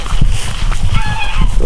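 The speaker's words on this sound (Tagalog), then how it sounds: "mga manok" Chickens in pens on a diversified farm give brief clucking calls under heavy, rumbling wind noise across the whole short stretch.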